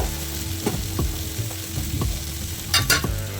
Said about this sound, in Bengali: সবজিগুলো দিয়ে দিয়ে আলু কুমড়োটাকে ভালো করে ভেজে নিলাম